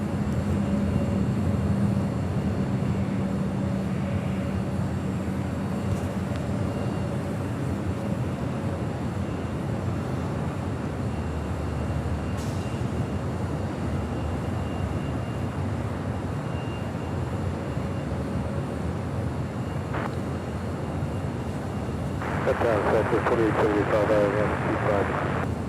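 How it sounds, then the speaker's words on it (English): An Air Tahiti Nui Boeing 787 Dreamliner arriving from Paris approaches LAX runway 25 left, its engines a steady low roar that carries all the way through, while a voice talks over it and radio chatter is heard. "We do have Air Tahiti Nui. It's a Dreamliner coming in from Paris."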